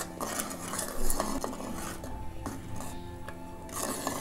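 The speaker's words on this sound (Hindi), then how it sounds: "हम चलाते रहेंगे" A spoon stirs kheer in a cooking pot after sugar, cashews and raisins go in, giving a steady run of metallic scrapes and light clinks against the pot, close and fairly quiet, with no talking.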